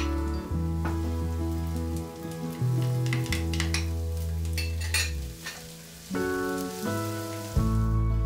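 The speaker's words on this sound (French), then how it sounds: "Faire revenir quelques secondes l'ail et le gingembre." Garlic and ginger frying in a generous splash of oil in a sauté pan over high heat, a bright sizzle with stirring, heard beneath continuous music.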